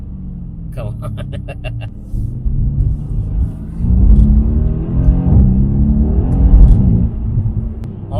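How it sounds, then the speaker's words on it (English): Mercedes-AMG C63 S V8 engine from a 2018 car heard from inside the cabin as it slows and downshifts, with rumbling blips and burbles swelling over a steady road drone while a voice speaks briefly. "when you do stop, at least you get to hear the downshifts"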